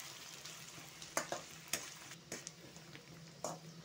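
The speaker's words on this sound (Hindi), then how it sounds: "प्याज भी ऐड कर देंगे। दो मिनट में फ्राई कर लेंगे।" Garlic and onion fry in a pan for spring onion sabzi, a soft continuous sizzle marked by several crisp clicks and scrapes of a spoon against the pan.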